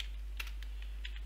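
Code is typed on a computer keyboard as a few quiet, separate key taps over a low steady hum, with no speech.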